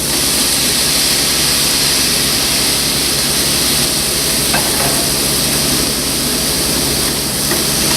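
Tomatoes hitting a hot pan of pork tenderloin reduction, a loud, dense, continuous sizzle with a brief crackling flare midway, no voices.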